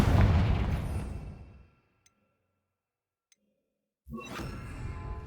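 Confringo blasting spell explosion in the Hogwarts Legacy video game: a loud burst that decays over about a second and a half, then near silence with faint ticks before another loud blast starts.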